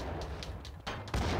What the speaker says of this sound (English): Oh god, everything's exploding actually.